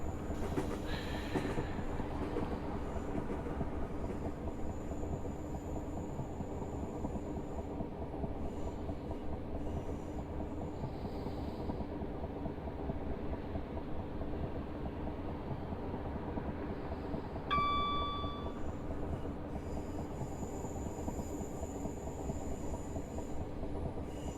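A Class 325 electric train runs in Train Simulator Classic with a steady rumble and rail noise. A brief high squeal or tone sounds partway through, continuous and fairly loud with no talking.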